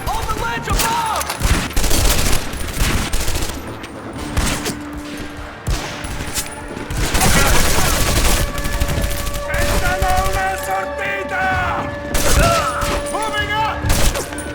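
Suppressing gunfire in a PS2 shooter video game rattles out in repeated bursts of shots and thuds, loud and close, with in-game voices shouting over the fire.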